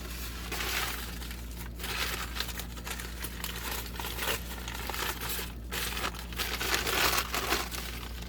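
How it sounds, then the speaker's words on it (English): A plastic packing sheet crinkles and rustles close up while Transformers figures are packed, in repeated bursts of crackling with short pauses between handlings, no speech. "let's put another piece of plastic on it"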